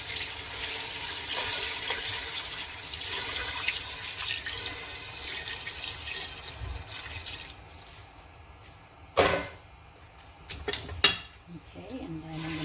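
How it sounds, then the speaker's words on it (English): Water pours steadily into a soup pot for a tamarind shrimp sinigang, making a bright, rushing splash that fades after several seconds. A few clunks and knocks of kitchen handling follow. "we're just going to add the 8 cups of water."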